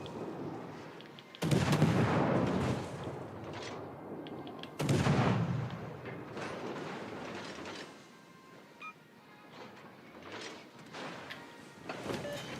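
Two heavy booming salvos from naval guns in World of Warships come close together, each one sharp and loud, followed by rumbling echoes and quieter bursts of distant gunfire that fade out slowly.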